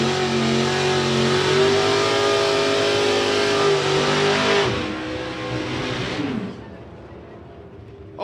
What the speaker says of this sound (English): A green light drag race, very important indeed.